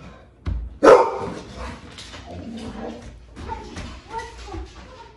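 A dog barks indoors on a Sunday, one sharp loud bark early followed by a quieter yip and muffled whimpering sounds, with faint background noise throughout.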